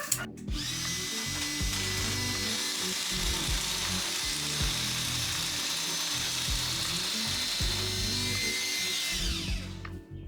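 A cordless nibbler cuts through metal mesh in one continuous loud, chattering run with a rapid pulsing rhythm, close up and alone, stopping at the end.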